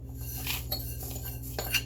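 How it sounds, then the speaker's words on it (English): Stirring apple banana cake batter in a bowl, soft scraping and a few light clinks of a utensil against the bowl over a low steady background hum. "And just stirring it up."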